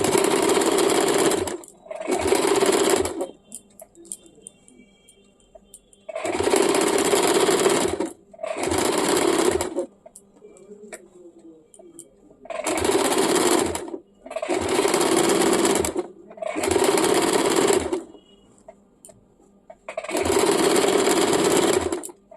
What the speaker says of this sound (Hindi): इस प्रकार से 1 फुट के दूरी से इसमें चाप सिलाई चला देंगे।